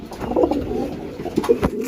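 Domestic village pigeon in a coop beside its mate and eggs, cooing close and loud in a few throaty, rolling bursts with little else around.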